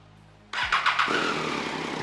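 A motorcycle engine starts up during an MOT test for an exhaust check: quiet lead-in, then a sudden crank and catch, a few quick revving pulses, and a steady close idle.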